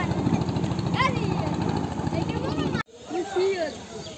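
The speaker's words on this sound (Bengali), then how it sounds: "ব্রিজের নিচ থেকে চলে যাচ্ছে একটি ট্রলার।" A trawler boat's engine chugging in a fast, steady rhythm as it passes under a bridge near a village market in Barisal, with someone talking over it before the sound cuts and a quieter scene with more speech follows.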